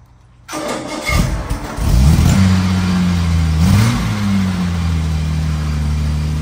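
A 1962 Jaguar XKE engine cranks briefly and catches on a cold start, then settles into a loud, steady, close rumble that swells once as the throttle is blipped.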